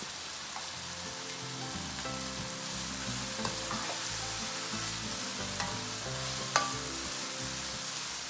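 Kung pao chicken stir-frying on high heat with the white part of spring onion and peanuts, a dense, steady sizzle with scattered stirring scrapes and a sharp clink near the end, close and continuous without speech.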